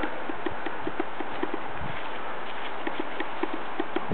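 Horse hooves clip-clop in a steady, even walking rhythm on a ranch, close and clear with light background noise.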